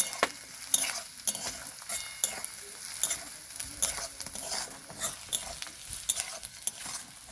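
Onion, ginger, garlic and green chili fry in a pan for stuffed tomatoes while a utensil stirs them often, giving regular scraping strokes over a constant close sizzle, with no talking.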